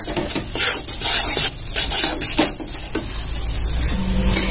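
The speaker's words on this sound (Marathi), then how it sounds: "आता छान असं परतून घेऊया।" Refined flour (maida) roasts in a spoonful of ghee, with rough scraping stir strokes against the pan over a crackling sizzle that settles into a steadier hiss.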